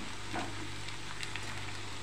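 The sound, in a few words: steamed sago being added and sizzling in the pan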